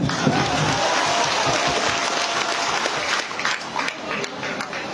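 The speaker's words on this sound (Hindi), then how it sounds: "भाई के लिए ताली नहीं बजता है क्या?" An audience at a political rally applauding, dense sustained clapping that fills the space and tapers slightly toward the end.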